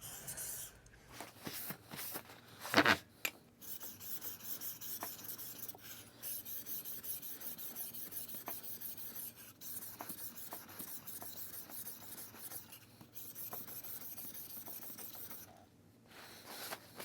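A blade is drawn back and forth across a 1200 grit sharpening stone, giving close, soft rasping strokes in a steady repeated rhythm, with a brief clatter early and a short pause near the end.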